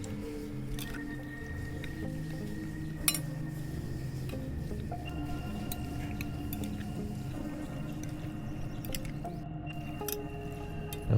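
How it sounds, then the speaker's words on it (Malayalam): Chicken pieces mixed with sauce in a bowl make soft, wet squishing and squelching sounds close by, steady and continuous, with occasional light clinks and a faint tonal background hum. "കുറച്ച് സുറുക്ക് ഒഴിച്ചു കൊടുക്കുക ഇത് നന്നായിട്ടൊന്ന് മിക്സ് ചെയ്തെടുക്കണം"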